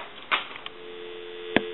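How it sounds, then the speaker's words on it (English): A steady dial tone from a repaired UK rotary desk telephone hums through a narrow, phone-line sound, broken by a few soft clicks and bumps. "Give you some dial tone."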